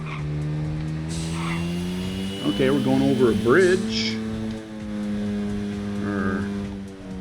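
A car's engine drones steadily in the street-racing video game Little Racers: Street, straining with a sustained hum that rises briefly mid-clip while someone talks over it.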